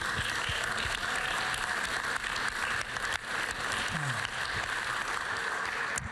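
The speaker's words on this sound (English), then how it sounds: "give them one more round of applause, please" Steady, moderately loud applause fills a community wellbeing event hall, continuous clapping from the audience with crowd noise blended in, lasting several seconds without a break.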